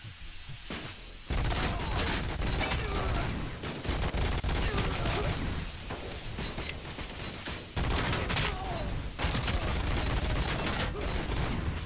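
Gunfire in the video game RoboCop: Rogue City during a fight with a merc leader, dense bursts of rapid shots and mechanical clatter, loud and sustained with only short pauses, a voice occasionally under the din.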